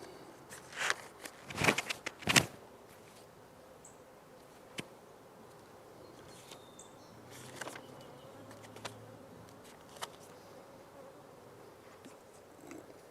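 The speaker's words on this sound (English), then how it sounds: "The bees that's pounding me in the face is not coming from her hive, it's coming from the hive next to it" Bees from a neighbouring hive buzz close around a beekeeper's face in an outdoor apiary, with a few sharp, loud passes near the start and scattered brief buzzes over a faint background hum.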